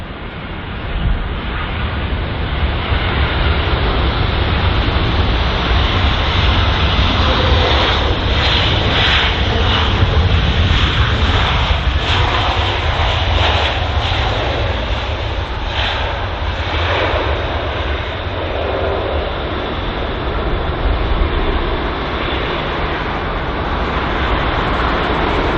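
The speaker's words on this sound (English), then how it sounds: "Let's watch as this pilot attempts to smoothen his landing out today." An airliner arriving from Glasgow lands at London Heathrow, its jet engines a loud, sustained roar that swells and rushes past at the runway, with no voices present.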